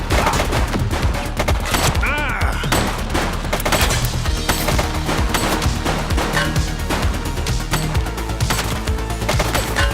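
Rapid bursts of gunfire from the police video game The Precinct, dense overlapping shots and automatic fire crackling continuously throughout, with brief shouted voices mixed in.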